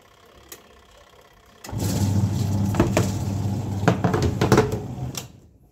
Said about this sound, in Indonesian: Nah, ini pencuci hidup normal ya